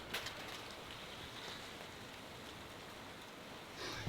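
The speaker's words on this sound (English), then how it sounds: "That's rain out there." Steady rain falls outside, a soft continuous hiss of drops on surfaces heard from indoors, fairly faint and even throughout with no talk.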